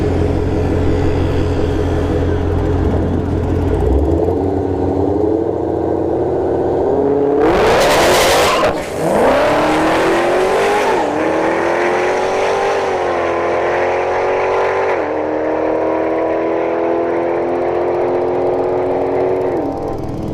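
Dodge Challenger Hellcat Redeye drag racing at a drag strip, loud engines revving hard at the launch with a sudden roaring burst of wheelspin around the middle, then sustained high-revving acceleration fading down the strip.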